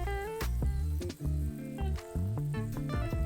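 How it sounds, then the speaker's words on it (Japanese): Chopped tomatoes sizzle in a pan while cooking for a coconut milk and lentil curry, a steady loud frying hiss close by, broken by stirring. "トマトもさっと全体に馴染んで柔らかくなるぐらいで大丈夫です。"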